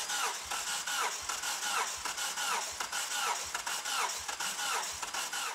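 A heavily modified Japanese tuner car engine cranks over on its starter with the fuel system disabled during a compression test. The rapid, rhythmic chugging repeats steadily and loudly, with no voices.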